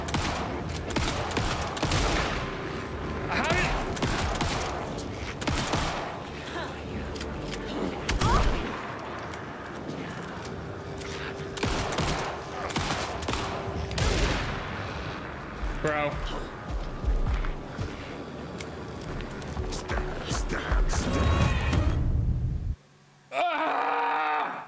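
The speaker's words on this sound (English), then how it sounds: "Goddamn, that shotgun is insane." Repeated shotgun blasts and other gunfire in the Alan Wake 2 video game, loud and dense across most of the stretch, with someone talking and groaning over the shooting.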